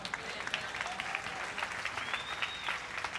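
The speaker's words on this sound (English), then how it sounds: "Clap your hands for God." A church congregation claps during a sermon, a dense steady wash of many hands applauding together at close range, with faint whistle-like tones sliding through it.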